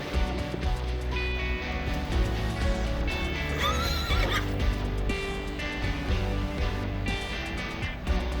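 Horses neigh and whinny over a steady clip-clop of hooves on a road as horse-drawn carriages pass, the calls loud and close against continuous outdoor traffic noise.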